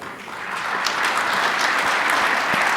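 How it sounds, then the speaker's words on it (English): Audience applause at a legal symposium's opening plenary session welcomes a speaker, steady crowd clapping building up and holding loud for about three seconds with no talking. "So if you could give a warm welcome to Heidi Freschette"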